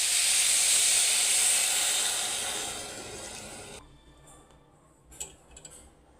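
Water poured into a hot pot of cooked rice, a loud bright hiss that steadily fades over a few seconds, then gives way to quiet with a few small clicks and knocks.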